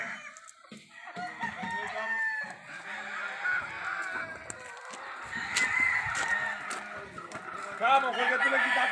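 Chickens cluck and a rooster crows amid a busy farmyard, with people talking in the background throughout.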